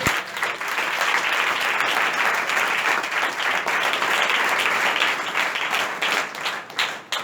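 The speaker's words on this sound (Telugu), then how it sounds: "గట్టిగా చప్పట్లు కొడదాం ఒకసారి" A church congregation bursts into loud, sustained applause during an evangelist's sermon, a dense wash of clapping that holds steady for several seconds before tapering slightly at the end.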